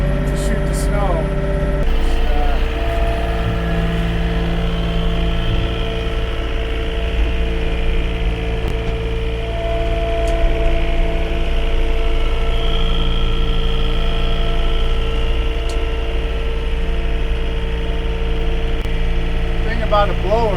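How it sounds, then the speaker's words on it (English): A John Deere 60-inch snow thrower on a 1500 Series tractor runs at high RPM, giving a loud, steady engine drone with a constant hum that holds evenly throughout. "the RPMs need to be up a lot higher to shoot the snow"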